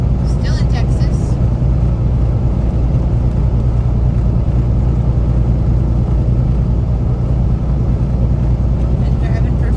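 A car cruising northbound on US 59 in Texas, its steady low road and engine rumble filling the whole stretch with constant wind and tyre noise, close and even throughout.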